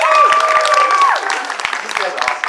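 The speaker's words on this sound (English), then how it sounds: "can I have a round of applause for them?" Audience at a cosplay competition at a Ghost in the Shell movie premiere fan event breaks into applause, with scattered claps and a whooping cheer over the crowd noise.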